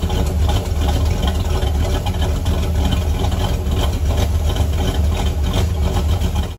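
A truck engine idles loudly and steadily, a deep continuous rumble with a slightly lumpy beat, close by and with no voices.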